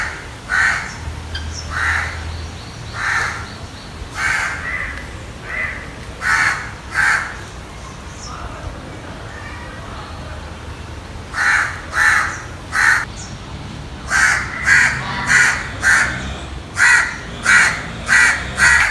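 Crows caw repeatedly at a zoo in irregular bursts of harsh calls, some in quick runs, over a soft outdoor background with no speech.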